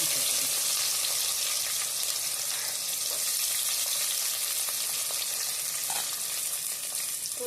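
Curry leaves and spices splutter in hot oil for a chicken gravy, a dense, steady crackling sizzle that runs loud and unbroken throughout, with no voices.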